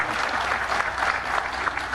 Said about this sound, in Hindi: तालियों से पता चलेगा बात समझी जा रही है।